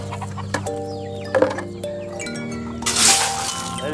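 Hens clucking on a farm while being fed, busy layered bird calls with scattered cracks and a louder squawking burst near the end.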